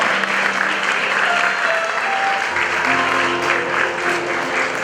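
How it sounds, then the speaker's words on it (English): An audience at a school graduation ceremony claps steadily as award recipients come forward, with loud, continuous applause and faint tones in the background. "Please a round of applause for them"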